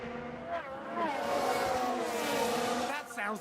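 Race car engines in the F1 Manager video game at Bahrain whine continuously with rising and falling pitch as a car runs wide off track, loud and steady throughout, with someone talking over it.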